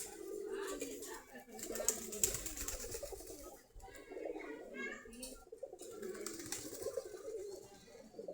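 Giribaz pigeons cooing in a loft, soft repeated throaty coos overlapping continuously at close range, with faint background voices.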